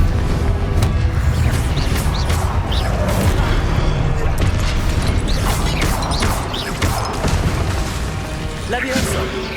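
Confringo blasting spells explode in Hogwarts Legacy, heavy booms and crashing bursts erupting over a loud, dense wash of continuous combat noise throughout.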